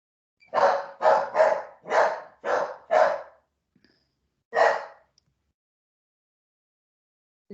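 A dog barks alone in a quick series of about six sharp barks, then a pause and one more bark, loud and close with silence between.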